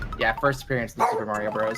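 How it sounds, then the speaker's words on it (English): A dog barks and yips in the room, several sharp barks overlapping with a person talking over gameplay of New Super Mario Bros. "And I apologize for the dog."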